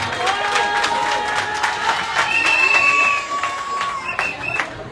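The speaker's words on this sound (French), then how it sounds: "Applaudissez à Mariama Fall, s'il vous plaît." Crowd at a Senegalese election campaign debate in Thiès applauding and cheering a speaker, a lively mix of clapping, shouts and whistles over a buzzing crowd.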